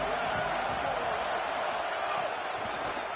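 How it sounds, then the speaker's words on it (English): Loud, steady roar of a packed stadium crowd in the College Football 27 video game, a dense continuous wash of cheering noise with no distinct breaks. "This crowd trying to show them what it's going to be like all day in this house"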